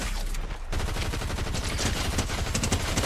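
Rapid gunfire crackles nonstop in a Fortnite zero build match, dense overlapping shots in fast bursts, loud and close, following a brief lull at the start.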